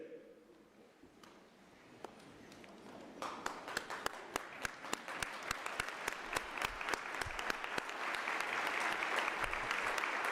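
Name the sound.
audience applauding, giving graduates a standing ovation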